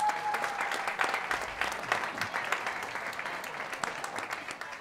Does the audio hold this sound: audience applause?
yes